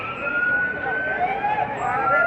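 A police siren wails steadily at moderate distance in Dubai during New Year fireworks, its pitch sliding and wavering over a dull background rumble.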